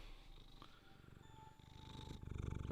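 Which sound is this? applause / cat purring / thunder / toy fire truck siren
cat purring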